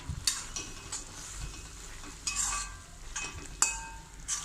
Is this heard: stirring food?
yes